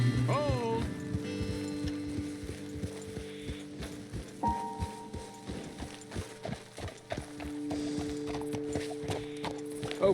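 Horse hooves clip-clopping in Red Dead Redemption 2, steady close walking rhythm of hoofbeats under tonal game music and some talking.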